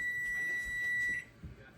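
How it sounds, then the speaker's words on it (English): A kitchen timer beeps with a steady, shrill electronic tone for just over a second, then stops, in a kitchen during home canning of pepper jelly. "I'm gonna clear that kitchen timer"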